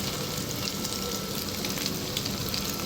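Pork sizzles in a hot wok for stir-fried thin rice noodles, a loud, steady, dense crackle that runs without a break from start to finish.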